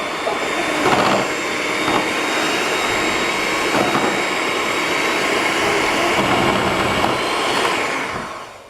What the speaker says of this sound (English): now we're going to use the cake mixer and mix the icing sugar and the butter